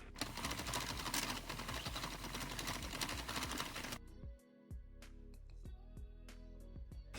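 A knitting machine being cranked to make hats, giving a dense, steady mechanical clatter for about four seconds, then thinning into sparser clicks and ratchet ticks with short pauses.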